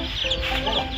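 A chicken at a nature museum in Yunnan clucks close by, with a short run of rapid, throaty clucks that carry on throughout the brief moment.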